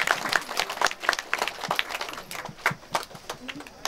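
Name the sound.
audience clapping for Dr Ravikumar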